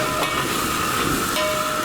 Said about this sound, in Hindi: ये पीतल के बर्तनों की आवाज है।